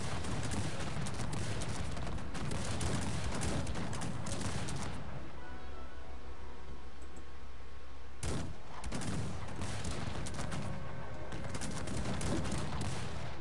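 Gunfire in the Cossacks 3 strategy game, with dense crackling musket volleys from massed troops in a battle against Turkish forces. Sustained loud fusillades break briefly midway, then resume, with no talk.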